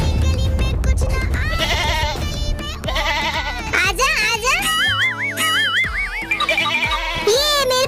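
A goat bleats repeatedly in loud, quavering cries, mixed with bouncy background noise and children's voices.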